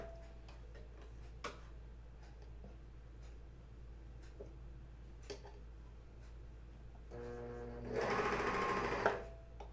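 A serger or coverstitch sewing machine stitching underwear runs in a short loud burst near the end, after quiet handling ticks and clicks at close range.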